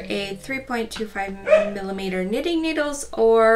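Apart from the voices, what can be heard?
dog barking in the background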